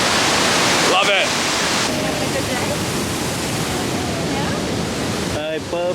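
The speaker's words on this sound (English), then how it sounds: "it's a massive waterfall" Nugget Falls, a massive waterfall near Mendenhall Glacier in Juneau, Alaska, roars as a loud, close, continuous broadband rush with wind buffeting the microphone and brief voices near the start and end.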